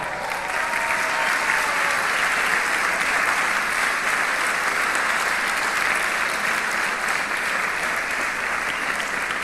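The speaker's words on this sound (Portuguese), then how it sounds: "Vamos aplaudir o Senhor." A church congregation applauds at a carnival conference, dense sustained clapping from a large crowd holding steady for several seconds.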